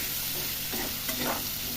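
Spices and potatoes are stirred in a hot pan for matar paneer, a brief close sizzle with a couple of soft scraping strokes from the spoon.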